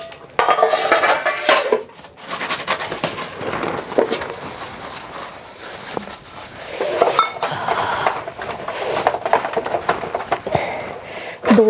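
Plates, steel pots and cutlery are scrubbed in cold water, with close, loud clanks, scrapes and clinks of metal dishes rattling almost continuously and a short pause near the start.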